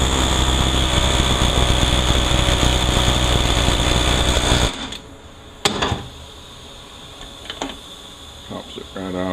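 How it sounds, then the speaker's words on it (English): An air hammer runs during an M6HA disassembly, a loud, dense, continuous rattling for about five seconds before it cuts off, followed by quieter scattered clicks and knocks. "You've got the air hammer."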